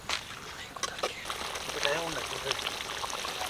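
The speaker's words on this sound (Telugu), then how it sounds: "గ్రేవీ కోసం కొన్ని వాటర్ పోసుకున్నా." Water poured into a pan of duck curry to make gravy, a short splashing pour heard close up under faint background voices.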